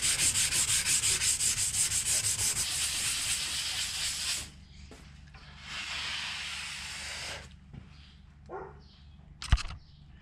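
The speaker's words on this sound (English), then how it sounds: "We're going to hit it with a scourer pad and we're going to see how that comes up." A scourer pad scrubs rust off a metal workbench in fast rhythmic rubbing strokes for about four seconds, then another shorter burst of scrubbing follows, ending with a light clunk; close and fairly loud.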